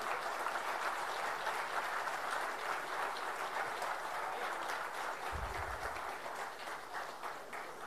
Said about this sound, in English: please stand up and give a round of applause to